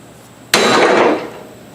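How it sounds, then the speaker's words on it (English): A single heavy hammer blow strikes a bush hog gearbox while removing the stump jumper, landing as a sharp, loud metallic clang with a ringing tail that fades over about a second. "You just want to just hit the gearbox and break it."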